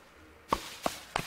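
Three quick woody chops land on a tree in the video game Don't Starve Together, evenly spaced and close, against a quiet background.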